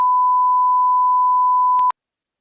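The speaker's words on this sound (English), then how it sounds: "2 seconds is a long time when you're listening to just a beep" A single pure electronic beep holds steady and loud for about two seconds, then stops dead. A couple of faint clicks come near the end, with no talking over it.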